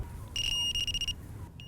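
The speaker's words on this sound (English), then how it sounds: "you get a single beep, and this is now in complete mute mode" A Prologic K3 carp bite alarm gives an electronic tone that pulses for just under a second as it enters mute mode, then a brief chirp, close-up over faint background hum.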